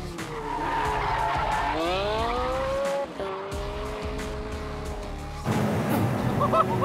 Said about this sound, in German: Der 918 gehört auch in Sachen Quertreiberei zur absoluten Champions League.